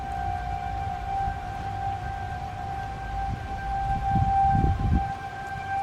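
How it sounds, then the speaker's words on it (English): A steady siren wail holds a constant pitch throughout, at night, with a low rumble of traffic or wind underneath and no voices. "Seemed like never-ending sirens this night."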